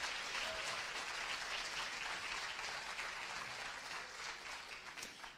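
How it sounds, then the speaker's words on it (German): Applause from a conference audience at a world congress panel, a dense, even wash of clapping heard from a distance and fairly faint, tapering slightly at the end. "großer Applaus."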